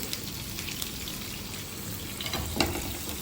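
Onion and green chili sizzle in mustard oil for a fish curry, a soft, steady crackle with scattered louder pops and a brief burst near the end, no talking.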